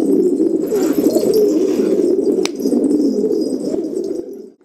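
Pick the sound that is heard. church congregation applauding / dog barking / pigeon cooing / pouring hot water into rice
pigeon cooing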